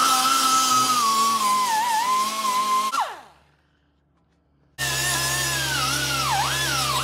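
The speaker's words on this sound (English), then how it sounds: "do want to take a little die grinder and maybe clean up this spot right here." A small die grinder cleaning up a metal spot on a 1955 Chevy truck, a steady high whine that cuts off, goes quiet for about two seconds, then starts again at full loudness, close and without talk.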